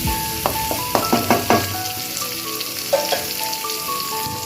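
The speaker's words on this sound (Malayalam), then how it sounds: "ഇഞ്ചി ചേർത്തു. നമുക്കൊന്ന് ഇളക്കി കൊടുക്കാം." Fresh ginger sizzles in hot oil in a pan of papaya and apple pickle, with a steady frying hiss broken by several scraping stirs near the start, close and fairly loud, no talking.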